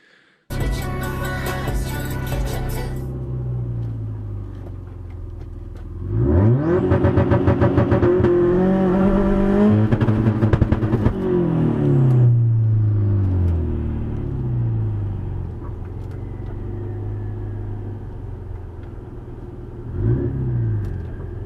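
A car engine with a failing clutch throwout bearing, idling and then revving hard several times with rising and falling pitch, loud and close, settling back to a steady idle, with no one talking.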